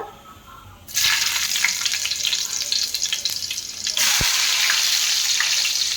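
Onion and green chilli pieces dropped into hot oil, a sudden loud burst of sizzling that stays strong and close, rising again as more pieces go in; no voices.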